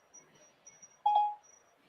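A phone's Siri activation chime rings once as a short, clear electronic tone of about a quarter second over faint room noise.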